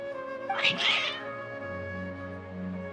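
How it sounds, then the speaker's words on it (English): Agitated cats in the video game Genshin Impact give a couple of sharp, whiny meows close up, followed by a lower drawn-out yowl, over a soft game music bed. "Your cats seem pretty worked up."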